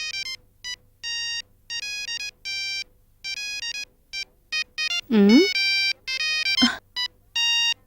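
A mobile phone ringtone plays a looping electronic melody in short repeated bursts, loud and close, with a couple of brief voice-like swoops partway through.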